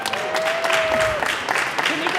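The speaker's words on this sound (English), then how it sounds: "Please give them a round of applause" Steady applause from a crowd in the Colorado House of Representatives chamber fills the clip, dense clapping with a thin tone and some voices mixed in.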